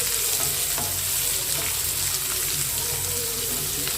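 Three large finely chopped onions sauté in a hot pan for masala vadai gravy, giving a loud, steady hiss of frying with light stirring scrapes throughout.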